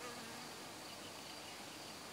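Honeybees at a strong production beehive during the acacia flow, a dense, steady buzzing drone from many bees, faint and continuous without a break.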